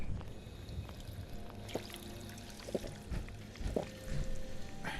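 A character drinks water in the survival mode of the video game Fallout 4. The sound is a soft pouring, trickling slosh with a few small clicks, with no talk over it.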